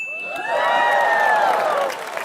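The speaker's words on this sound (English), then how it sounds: "some of you are clapping" A stand-up comedy audience reacts with a swell of crowd noise, cheering and whoops rising about halfway through and carrying steadily to the end, loud and close with no single voice standing out.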